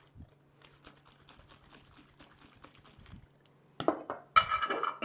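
A glass jar holding brine with vinegar is shaken, starting with faint clicks and liquid movement, then building into louder sloshing and glassy rattling near the end.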